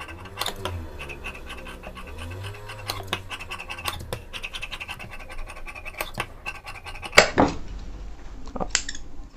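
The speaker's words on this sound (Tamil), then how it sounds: "லைனிங்கை அட்டாச் பண்ணிவிட்டு இந்த மாதிரி கட் பண்ணிக்கலாம் எக்ஸஸாக இருக்கிற பீஸ்லாம்." Scissors cutting away excess blouse lining fabric, close snipping and scratchy fabric rustle in irregular bursts, with a sharper cluster of cuts near the end.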